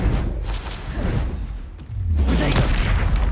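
A spell blast in the Hogwarts Legacy video game bursts with a deep booming explosion and crackling whoosh, a short dull thump first and then a louder rumbling burst that lingers to the end.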